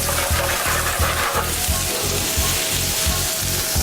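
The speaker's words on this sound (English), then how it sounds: "I'm sauteing these up." Butter and vegetables sauté in a hot pan, giving a loud, steady close-up sizzle with a regular pulsing texture from the stirring and no voices over it.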